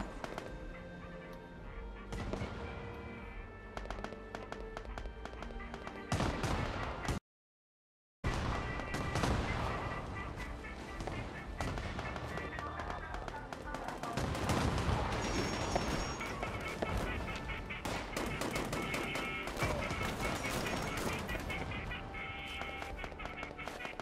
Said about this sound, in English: Somebody with a grenade, auto grenade launcher.